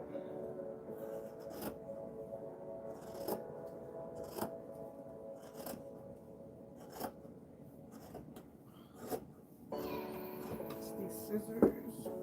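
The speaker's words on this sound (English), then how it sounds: "I cannot cut straight." Intermittent snips and scraping of scissors cutting fabric, close by, with a steady background hum and brief rustling near the end.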